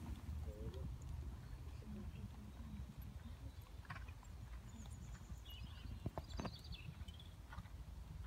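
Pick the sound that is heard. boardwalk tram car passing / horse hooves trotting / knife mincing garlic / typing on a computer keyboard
horse hooves trotting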